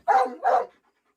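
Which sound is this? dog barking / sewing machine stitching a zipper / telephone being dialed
dog barking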